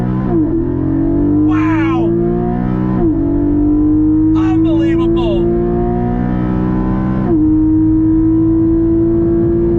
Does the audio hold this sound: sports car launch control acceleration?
yes